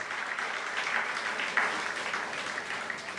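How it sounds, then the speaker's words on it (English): Applause for a guest speaker at a school or college event, a soft, steady patter of clapping from an audience heard at a distance throughout. "Please give him a big round of applause."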